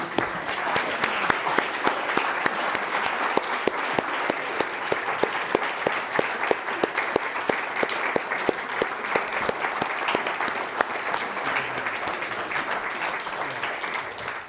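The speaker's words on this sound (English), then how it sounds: "I ask you to applaud the older and wiser Ferguson" Sustained audience applause fills a lecture hall after a talk, a dense, even wash of many hands clapping at steady loudness with no speech over it.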